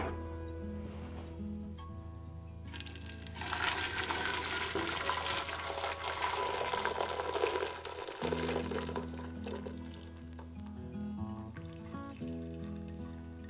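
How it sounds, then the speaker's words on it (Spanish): Spiced champurrado, a thick chocolate drink made with tortilla masa, is poured through a strainer into a pot, giving a steady liquid splash for several seconds over soft background music. "Ocuparemos un colador para sacar nuestras especies del chocolate."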